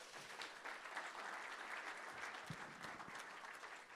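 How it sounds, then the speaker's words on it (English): A crowd clapping steadily, a dense warm round of applause from an audience indoors, sustained throughout without a break. "a huge round of applause for everybody here today"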